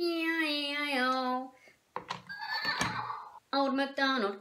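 A horse whinny in a sung farm-animal nursery rhyme, a loud bright neigh that rises and falls in pitch, broken by a short breathy snort and followed by a second clear neigh.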